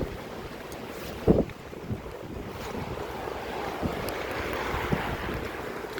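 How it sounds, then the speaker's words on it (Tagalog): Strong wind gusts buffet the microphone outdoors near the sea, with surf and open-water rumble beneath, a sharp gust burst early on and a steady roar throughout, no talk. "Grabe ang lakas ng hangin"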